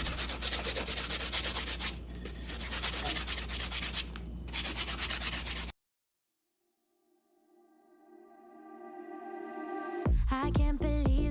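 Sandpaper gently rubbing over a wooden entryway table before chalk painting, a steady close scratchy hiss for several seconds, then silence as music fades in.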